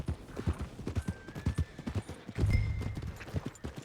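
Horse hooves clip-clop steadily on a path in the Red Dead Redemption 2 video game, a close, rhythmic run of light hoof strikes with a brief heavier rumble midway.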